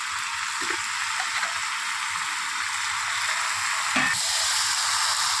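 A steady, hissing sizzle of chicken curry with tomatoes and fried potatoes cooking in hot oil, close by and even in level, with a couple of faint clinks from a utensil.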